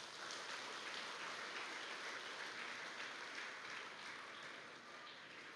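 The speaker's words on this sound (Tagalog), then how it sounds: "Kusog nga palakpak bi sa Ginoo." A church congregation claps in praise during a worship service, a continuous, even wash of applause from many hands that sounds distant and quiet, holding steady for several seconds.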